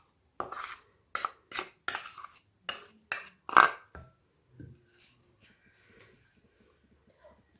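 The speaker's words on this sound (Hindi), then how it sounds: "इसके अंदर मैं बेसन ऐड करती हूँ" Gram flour is tipped into a kitchen bowl in a series of close, sharp scraping and tapping knocks, about eight quick clustered hits followed by a few faint, scattered clinks against quiet.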